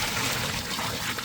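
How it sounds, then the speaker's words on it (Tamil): Water poured into a cooking pot for a chicken curry with tapioca, a dense steady splashing stream heard close and without a break, no voices. "தண்ணி சேர்த்துக்கிறேன்."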